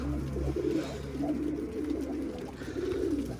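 A female pigeon cooing while trying to mate, a few soft, close, repeated throaty coos in a low rolling rhythm over a faint steady background hum.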